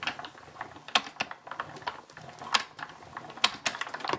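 A die-cutting machine presses paper through a Designer Frames die, giving sharp close clicks and ticks at irregular intervals over a quiet background.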